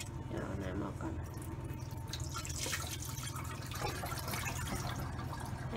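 Sticky rice is rinsed in water in a pot, giving soft splashing, trickling and dripping sounds close by, with a steady low hum underneath and a person talking over the liquid noises.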